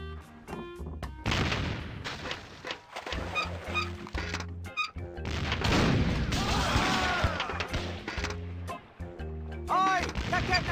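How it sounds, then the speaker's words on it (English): A self-loading cannon in the Curse of Monkey Island adventure game fires repeated booming shots amid clattering effects and game music, with character voices talking over parts of it. "Hey, it's one of those new self-loading cannons I've heard so much about."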